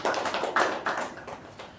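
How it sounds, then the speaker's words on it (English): Applause from a small meeting audience honouring the Toastmaster, a short burst of overlapping hand claps at close range that peaks early and then gradually thins out. "A round of applause to Toastmaster."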